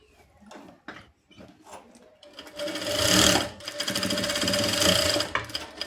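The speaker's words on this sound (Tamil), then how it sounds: "இப்படி வச்சுட்டு ஒரு 1/2 இன்ச்சு டிஃப்ரெண்ட்டில் நம்ம மார்க் பண்ணி 1/2 இன்ச்சு டிஃப்ரெண்ட்டில் தையல் போட்டுக்கலாம்." A sewing machine stitches a blouse shoulder seam, starting with a few short bursts and soft clicks before settling into a steady, rapid mechanical whirr, close and moderately loud.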